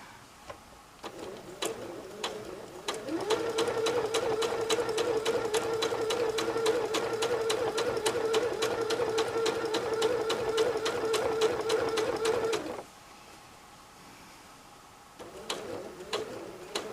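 Sewing machine quilting straight lines on patchwork, a fast steady needle chatter running for about ten seconds after a few starting stitches, then stopping and briefly starting again, close and alone.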